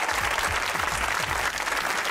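A studio audience at a Pakistani comedy talk show breaks into loud, dense applause, a steady sustained roar of clapping with no pause.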